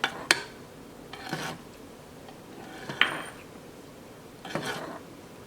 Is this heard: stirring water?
yes